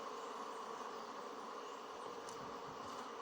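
Bees buzz steadily around a beehive brood frame during a hive inspection, a dense continuous drone that stays even and close throughout, with no talk.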